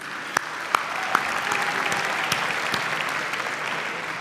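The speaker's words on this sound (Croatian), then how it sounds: "ali jedan veliki aplauz za njih." An audience at the Porin 2019 music awards ceremony applauds with steady, dense clapping throughout, a few sharper individual claps standing out near the start, with no talking over it.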